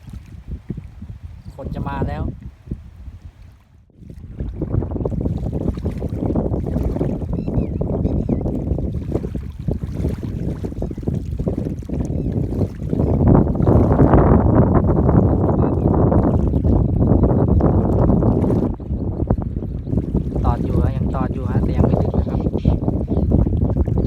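Strong gusty wind buffeting the microphone outdoors near water at a fishing spot, roaring loudly and continuously, with a voice briefly heard in Thai near the start.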